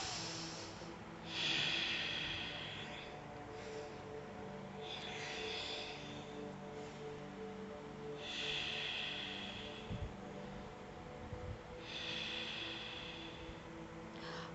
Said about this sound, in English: Hear your breath.